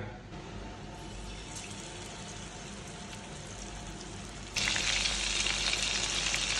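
Fish frying in a pan of hot oil gives a steady, close sizzle that jumps sharply louder and brighter near the end, as if more pieces went in or the fish was moved.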